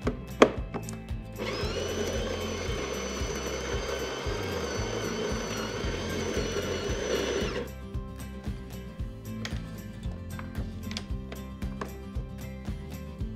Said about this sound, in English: We only need to make a very small adjustment to the grinder, and we can only do this while the grinder is operating.